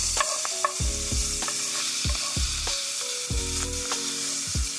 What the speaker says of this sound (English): Next, I'm going to add in my onion, and we're going to saute that for 4 minutes.